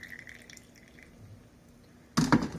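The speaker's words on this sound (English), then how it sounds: "We can just go ahead and pour it into our jar here." Hot tea poured into a blender jar of a tea extractor blender, a quiet moment with faint drips followed by a sudden loud splashing pour near the end.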